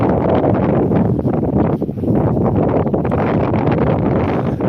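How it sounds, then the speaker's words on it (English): Steady, warm wind at Withernsea buffeting the microphone, a loud continuous rushing roar with gusty fluctuations and no voices. "It is getting windy."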